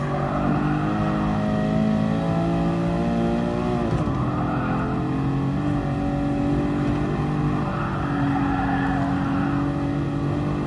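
A Mercedes-AMG Black Series engine drones loud and steady from inside the car on the Nürburgring, its pitch dipping around a gear change before holding a sustained throaty note.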